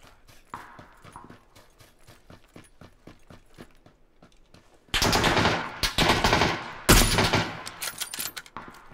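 Loud, rapid automatic gunfire in the PUBG battle royale game, sustained bursts up close after a stretch of quieter, faster clicking shots.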